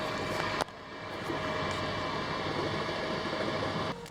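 A new boat motor runs on the water on a trip toward town, making a steady, close, droning engine noise mixed with rushing wind and water.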